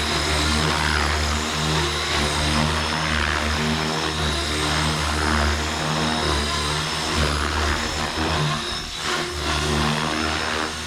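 A Blade Fusion 360 3s RC helicopter flies near the listener, its rotor and motor giving off a steady, loud, high whirring drone that holds fairly even, with slight swells as it manoeuvres.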